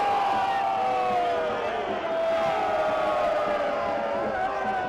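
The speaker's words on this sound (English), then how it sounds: "Home crowd very displeased with the refereeing display they're seeing." Stadium crowd noise from the home supporters at a Colorado Springs Switchbacks FC versus Las Vegas Lights FC soccer match, a sustained loud roar of booing and jeering aimed at the referee, steady throughout with no break.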